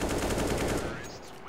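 Rapid bursts of Counter-Strike gunfire from a player tap-firing, loud and close, with the shots packed into a dense volley for about a second before it cuts to quieter ambience.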